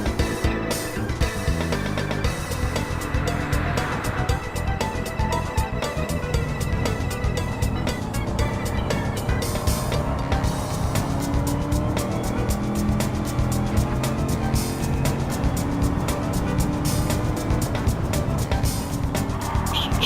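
Race cars driving hard around a track during a Challenge Series race, producing a loud, continuous roar of engines with revving and passing sounds that stay close throughout.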